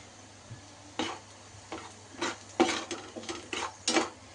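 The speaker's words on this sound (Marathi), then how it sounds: "आता हे आपण एकदम सॉटे करून घेऊया." Egg and rice mixture being sautéed in a pan, heard as a series of sharp metallic scrapes and clinks of a utensil against the pan, spaced irregularly over a faint steady hum.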